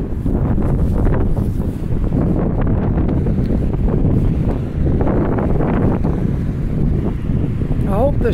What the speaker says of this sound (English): This wind isn't making too much noise in the fall.